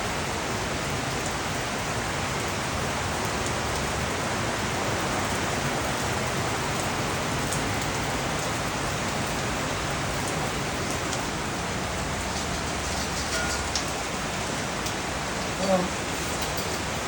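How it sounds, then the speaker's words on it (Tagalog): Heavy rain pours steadily in the Jordan Valley, a dense, unbroken hiss of falling water at even loudness throughout, with a brief faint knock near the end. "Lakas po ng ulan dito sa amin"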